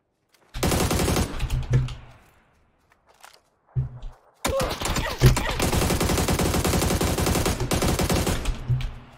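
Rapid automatic gunfire in PUBG on the Sanhok map, first-person mode: two long sustained bursts of dense, loud shots separated by a short pause and a brief single volley.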